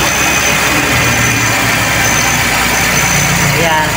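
A Toyota 2E car engine idles with a loud, constant close-up drone and hum that holds steady for the whole stretch, with a person's voice faintly present over it.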